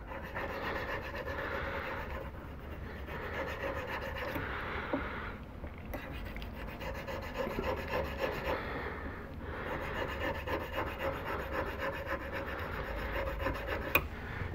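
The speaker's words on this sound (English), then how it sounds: "I'm going at a 45 degree angle, and I just want to put a nice bevel on there because you don't want your ring edges to be sharp" Filing or rubbing to bevel a ring edge at a jeweler's bench: a continuous raspy scraping in long back-and-forth strokes, close and fairly quiet, with brief pauses between passes.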